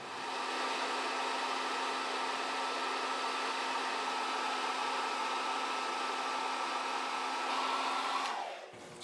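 A heat gun blows hot air onto the nut of a Gibson SG Special guitar. The whir is loud and steady at close range, then the pitch drops as the tool winds down near the end, with no talking.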